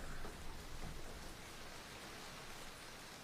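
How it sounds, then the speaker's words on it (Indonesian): Steady rain pours down in a broadband hiss, with a low thunder rumble early on, fairly quiet and continuous with no voices. "Terakhir kali kedengar petir kayak gini sih ada yang kehujanan."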